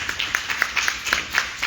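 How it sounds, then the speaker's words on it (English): Applause for police officers from the 71st Precinct at a community council meeting in a school, a small crowd clapping in quick, uneven bursts, close and moderately loud. "Please give them a round of applause."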